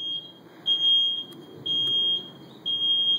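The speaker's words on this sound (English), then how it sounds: "there goes a truck outside that likes to put on its beeps" A truck's reverse alarm beeps steadily outside, four evenly spaced high-pitched tones over a quiet background hum.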